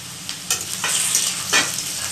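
Chopped onion, potato and mangodi lentil dumplings fry in a pan for a Marwadi curry, a steady sizzle with a few scraping stirs, close and moderately loud with no talk.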